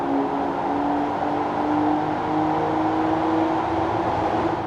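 A supercharged BMW E39 530i Touring runs on a dyno with a steady, droning engine tone and a faint high whine, holding a constant, moderately loud pitch throughout.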